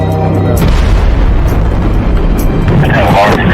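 A derailed freight train at a rail yard explodes in a deep, sustained boom with heavy rumble and roar, loud and continuous throughout, with voices faintly mixed in.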